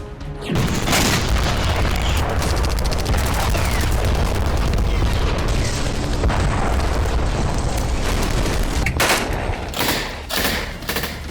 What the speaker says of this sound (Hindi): ये बाखमुत से आया वीडियो है, जिसमें M109 से रूस को डराने के लिए स्मोक फायर किए जा रहे हैं।